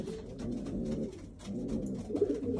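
Racing pigeons in a London loft coo steadily in a low, throaty chorus, several birds overlapping at close range with a brief lull midway and a louder burst near the end.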